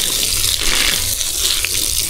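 Water sprays and hisses steadily at close range while farm plants are watered, a continuous broadband rush with no talk.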